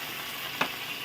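A faint, steady sizzle from a pan of salsang bulad, a dried-fish dish with tomato, with a brief sharper spurt of sizzling midway as vinegar goes in.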